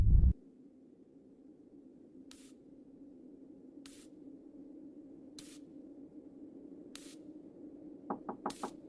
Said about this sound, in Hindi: जैसे कोई दीवार के अंदर से धीरे धीरे खटखटा रहा हो